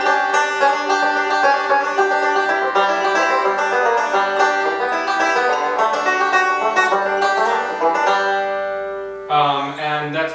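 A song's verse is picked on a banjo in a beginner lesson, with quick continuous rolls of bright, ringing notes, played close and alone without talk.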